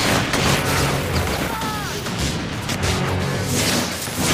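Gunfire and explosions from the inFAMOUS 2 video game, a dense loud barrage of shots and booms under a continuous roar, with a brief whining streak in the middle.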